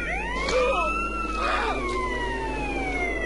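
An ambulance siren in GTA San Andreas wails in sweeping rising and falling tones, loud and close, layered over steady in-game engine rumble without speech.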